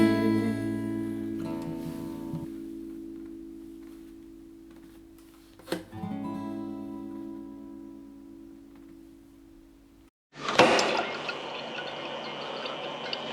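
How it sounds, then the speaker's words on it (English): Water runs steadily into a water bottle at Dundee University with a rising tonal hum, pauses, then resumes with a louder rushing gush near the end; no talking. "I'm just filling up my water in Dundee Uni."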